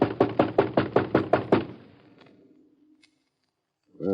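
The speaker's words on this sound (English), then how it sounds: "Let's bang on the door." Someone bangs on a store door in an old-time radio detective drama, eight quick, heavy knocks in a steady rhythm that ring out into silence before a voice begins.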